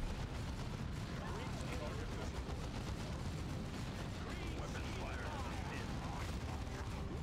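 Continuous dense gunfire and artillery-like blasts from the Dawn of War 2 campaign, a steady roar of battle with overlapping shots and explosions throughout, with voices speaking over it.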